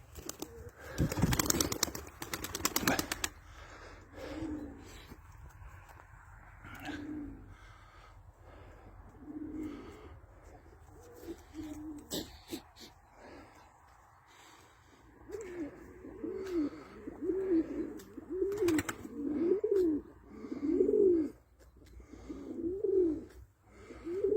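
Front-crested pigeons cooing in soft repeated calls while snow falls, growing steadier toward the end, with some wing flapping and rustling near the start.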